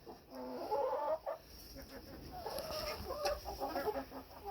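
Several hens cluck and murmur with a rooster among them in a snowy Atlantic Canada coop, soft irregular clucks close by against a quiet background.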